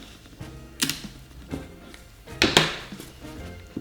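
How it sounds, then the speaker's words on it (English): Clear tape pulled and pressed onto Christmas wrapping paper to pin a gift down flat: a few close, sharp clicks and a brief ripping crackle, no talking. "I'm just gonna put a piece of tape here"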